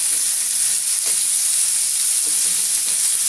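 Lemon curry for Onam sizzles and hisses steadily in a pan while being stirred, with a few soft scraping knocks of the spoon over the constant frying noise.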